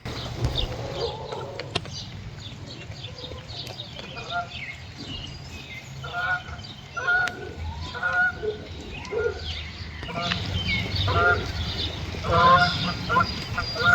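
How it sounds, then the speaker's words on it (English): Geese honk repeatedly in scattered bursts at moderate distance, over light background noise, with the calls growing busier toward the end. "Up, the wild geese passed."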